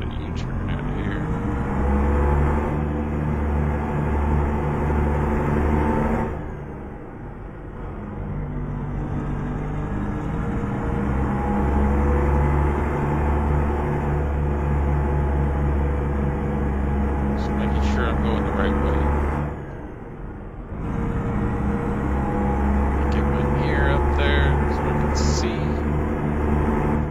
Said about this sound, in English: I don't like how the truck sounds.